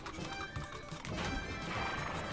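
A horse neighs in the video game Pool Panic, a loud whinny over busy game sounds with hoof clip-clops and a louder stretch in the second half.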